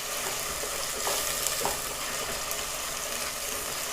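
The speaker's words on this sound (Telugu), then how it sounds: "ఇప్పుడు కొంచెం ఫ్రై అవుతుంది కదా, ఒక్క నిమిషం అట్లా ఫ్రై అయిన తర్వాత" Chicken with masala fries in a pan for a Telangana-style chicken fry, giving a steady, close sizzle with occasional faint clinks of stirring throughout.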